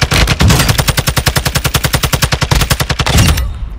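Rapid automatic gunfire in the video game Warzone, loud and close, with a long steady burst of evenly spaced shots that runs for over three seconds before stopping.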